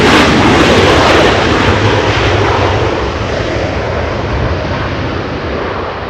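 A Virgin Atlantic airliner lifting off from Los Angeles International Airport bound for San Francisco, a loud close jet roar that gradually fades as it climbs away.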